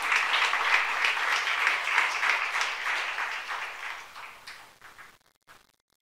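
A church youth congregation breaks into steady, dense applause during a sermon. The clapping holds strong for a few seconds, then thins and fades out to near silence.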